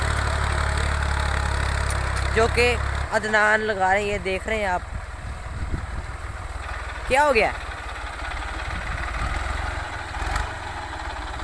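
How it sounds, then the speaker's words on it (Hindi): A Ghazi tractor's engine labours under load while a plough is hitched to its frame, a deep rumble loud for the first few seconds, then continuing more faintly beneath several people talking. "बहुत खिंचाई है, गाजी ट्रैक्टर है"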